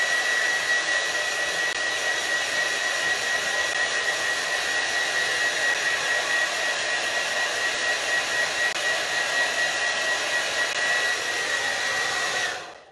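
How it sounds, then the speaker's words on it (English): A powerful hair dryer blows at full power, a loud, steady whooshing roar with a thin whine that holds evenly for about twelve seconds before cutting off. "even this hairdryer knows it's highly likely to start a fire"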